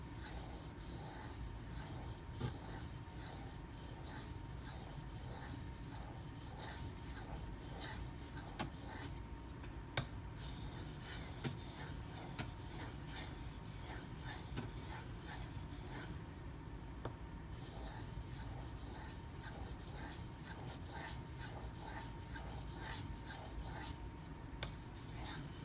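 An Emerson A100 knife with a regrind is drawn across a sharpening stone in steady, repeated rasping strokes under light hand pressure. The scraping is quiet and close with an even rhythm, and no one speaks.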